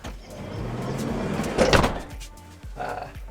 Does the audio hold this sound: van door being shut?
yes